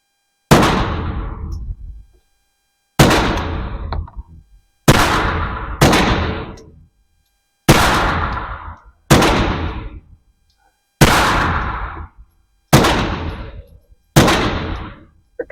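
Nine suppressed shots from a Scorpion VZ61 fitted with a can ring out one at a time at uneven intervals, each a sharp loud crack with a short decaying tail and silence between.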